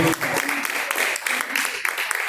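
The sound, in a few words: church congregation clapping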